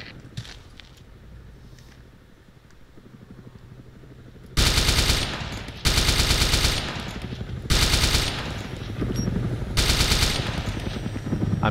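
Machine-gun fire from a military simulator game rattles out in four loud sustained bursts with short gaps, following several seconds of quieter ambient background.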